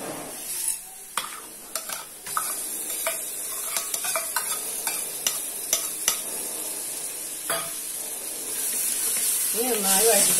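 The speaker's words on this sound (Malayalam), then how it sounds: "നന്നായി വഴറ്റിക്കൊടുക്കണം." Onion sautéing in a pan with crushed ginger, garlic and green chili, a steady sizzle with repeated stirring scrapes and clinks of a spoon, a voice talking over the cooking at times.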